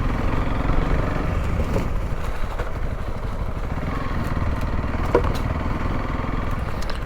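A Honda CRF300L dual sport motorcycle engine drones steadily throughout, close and fairly loud, with a brief shift into neutral and faint clicks over the continuous running noise, no speech.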